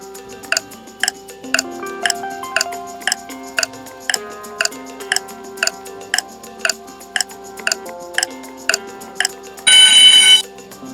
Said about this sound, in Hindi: तो इसके लिए आपको 10 सेकंड का टाइमर मिलेगा